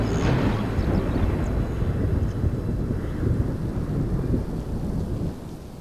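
A thunderstorm over the Serengeti: a loud, long rolling thunder rumble fades slowly beneath a steady wash of rain, with no voices.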